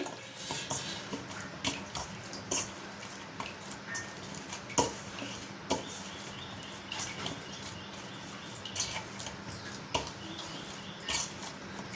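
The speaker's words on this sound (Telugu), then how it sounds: "నూనె వేసుకొని కలిపి పక్కన పెట్టుకోవాలి" Dough for halwa puri being mixed with a spoonful of oil in a bowl: scattered soft scrapes, light clinks and squishing taps at an uneven rhythm, fairly quiet and close, with no talking.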